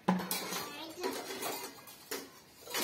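Pots and metal vessels clatter and clank in a few sharp knocks about a second apart while they are being scrubbed and washed, with voices talking quietly nearby.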